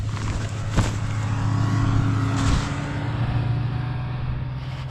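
A snowmobile engine on a mountain during a blizzard, a steady loud drone that rises slightly in places, heard close over wind noise.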